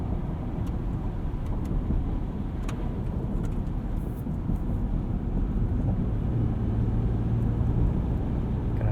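A 2021 Ford F-150 Tremor pickup merges onto a salted highway entrance ramp in two-wheel drive, its engine and road noise a steady low rumble heard from inside the cab, with a few faint clicks.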